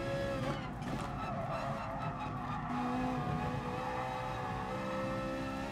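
A race car engine in the video game Gran Turismo Sport drones steadily at high revs, with tires squealing and skidding through a corner; no one talks.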